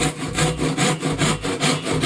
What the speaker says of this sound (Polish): Po oznaczeniu koła i głębokości nacięcia nacinamy piłą płatnicą lub jakąkolwiek inną